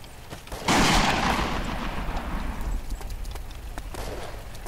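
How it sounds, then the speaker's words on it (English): Sniper rifle fire in the World War II shooter game Iron Front, a single loud crack that booms and rolls away in a long echoing tail, followed by fainter distant clicks and ambient noise. "That is definitely a goddamn sniper rifle"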